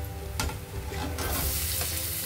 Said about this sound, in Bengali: এখন আমি অ্যাড করে দেবো কেটে রাখা টমেটো আর কাঁচা লঙ্কা